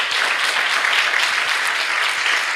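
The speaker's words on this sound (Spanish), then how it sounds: "Denle un aplauso al Señor." Dense congregation applause in a church, continuous, even clapping throughout, loud and close, with no talking.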